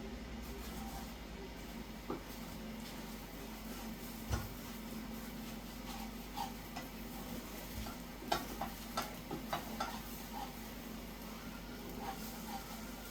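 Scrambled eggs sizzle steadily in a pan over high heat while being stirred and pushed around. A low, continuous frying hiss runs throughout, broken by sharp scraping clicks of the utensil against the pan, heard close and fairly quiet.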